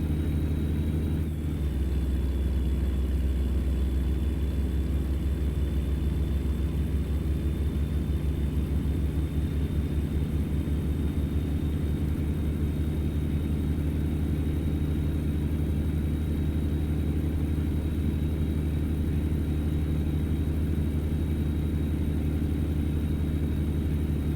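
A heavy-haul truck in American Truck Simulator labours uphill, its engine giving a steady low drone that builds slowly with a faint rising whine and no talk over it.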